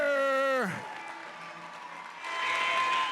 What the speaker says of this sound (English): the Pennsylvania crowd getting behind Aubrey Crazer early here